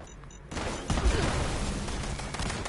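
Grenade launcher fire in Fallout 76 Nuclear Winter multiplayer: a sudden loud blast, then a rumbling burst of explosions and gunfire that stays dense and close to the end.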